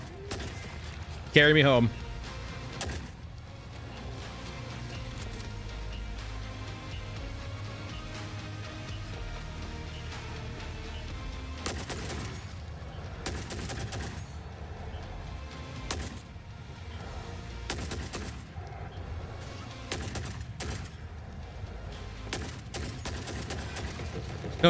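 Shotgun blasts and other gunfire in the video game Forever Winter crack out in scattered sharp bursts across a long stretch of game noise, with someone talking briefly near the start.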